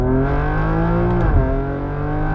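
A twin-turbo BMW M3 Touring accelerates hard in second gear, its engine note climbing in a loud steady rising drone that dips briefly and then pulls on.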